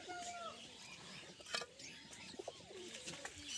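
Soft fancy pigeon coos and chirps mingle with a busy, faint background of birds in a village loft, steady throughout.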